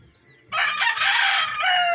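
A six-month-old gamefowl rooster crows once, loud and close, in a single drawn-out cock-a-doodle-doo that starts abruptly after a quiet moment and carries on to the end.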